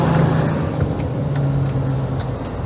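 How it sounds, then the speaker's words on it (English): A traffic jam on a California road, with steady engine drone and the low rumble of idling cars, buses and trucks close by, plus a faint air-brake hiss, with no talk over it. "We are stuck in traffic."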